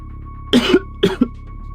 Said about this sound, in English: I don't cough all day and then I come on stream and just start coughing